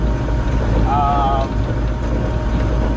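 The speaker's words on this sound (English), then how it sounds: "This is, by the way, canola that we're swathing." Steady loud machinery roar of a swather cutting canola in a field, constant and close, with wind buffeting the microphone and a brief whistling tone.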